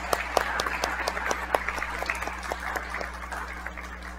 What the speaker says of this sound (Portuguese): Vamos receber com palmas essas crianças